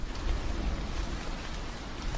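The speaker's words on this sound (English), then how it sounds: "pleasant level of rain." Moderate rain falls in a video game, a steady soft hiss of drops at low volume with no voices over it.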